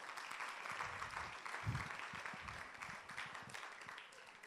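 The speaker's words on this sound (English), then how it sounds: "So let's give them a round of applause" A school audience at a literacy challenge grand finale claps in a steady, moderate round of applause that carries on throughout, with a few louder low thumps midway.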